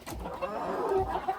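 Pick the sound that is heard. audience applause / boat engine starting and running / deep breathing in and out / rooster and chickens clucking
rooster and chickens clucking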